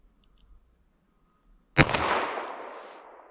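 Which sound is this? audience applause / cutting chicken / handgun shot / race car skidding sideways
handgun shot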